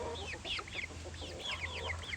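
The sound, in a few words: hen clucking with her chicks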